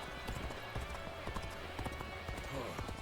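Galloping hooves clip-clop in a steady rapid rhythm from a horse in the battle game Dynasty Warriors Origins, with clashing battle noise and a voice speaking over it.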